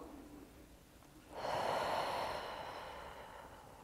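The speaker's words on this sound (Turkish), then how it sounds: "Derin nefes al." A single deep inhale during a pregnancy breathing exercise, starting after a quiet pause and swelling into a long, airy breath that slowly tapers off, close and clear with no talking.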